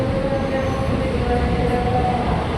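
An Inka-built KRL commuter train rumbles at Pasar Minggu station in Jakarta, with a steady, loud low roar and a faint tonal whine running throughout.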